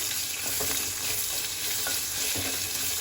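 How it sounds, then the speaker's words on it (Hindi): Long-sliced onion softening in hot oil for a raw mango chutney, a dense, continuous sizzle with occasional stirring scrapes, close up and with no talking. "प्याज को थोड़ा सा भून लेंगे, ब्राउन नहीं करना है, थोड़े से सॉफ्ट करना है हमने इसे"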